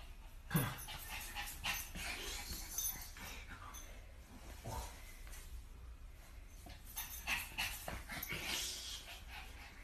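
A puppy pants quietly and steadily at close range, with faint whimpers and a few brief bumps and clatters scattered through the stretch.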